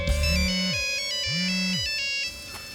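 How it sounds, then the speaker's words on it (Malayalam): A mobile phone ringtone plays loud and close, a bright repeating electronic melody with a steady buzzing undertone that cuts off abruptly near the end. "നിന്റെ ഫോൺ അടിക്കുന്നു"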